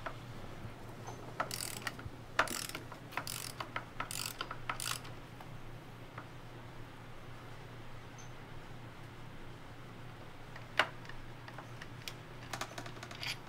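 A ratchet wrench working loose the brake caliper mounts on a motorcycle front brake, heard as short bursts of quick metallic clicks with pauses between, close but fairly quiet over a low steady hum.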